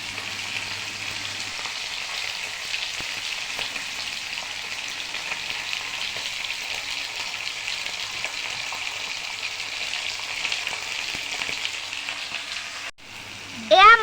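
Pomfret fish frying in oil in a pan, a steady dense sizzle that stays loud and even for many seconds, close up, ending with a brief clatter.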